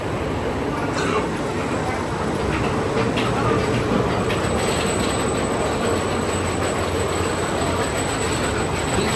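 A roller coaster train rolls steadily along its track at a theme park, a loud continuous rumble and clatter with faint squeal, close by throughout.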